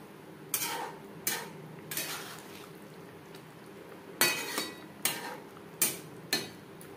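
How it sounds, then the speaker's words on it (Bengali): A spoon clinks against a pan while egg is stirred into curry gravy, giving sharp, irregular scraping taps spaced about half a second to a second apart, close and clear over a quiet kitchen background. "গ্রেভির সাথে ডিম বেশ ভালো করে মিক্স করে দেব।"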